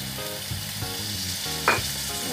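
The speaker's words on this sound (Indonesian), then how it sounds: "Seperti ini kita aduk." Spicy beef skin (kikil) with petai beans fries in a pan with a splash of water, a steady sizzle broken by a few stirring scrapes and one louder clank.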